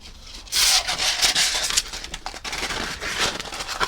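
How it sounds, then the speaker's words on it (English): Wooden bike chain links are hand-sanded with 320-grit abrasive paper, brisk close rubbing strokes in quick bursts, loud and continuous with short pauses between passes. "Each piece requires sanding anyway"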